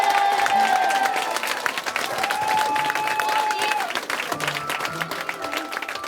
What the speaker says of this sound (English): can you just give them all the biggest clap you've ever given anyone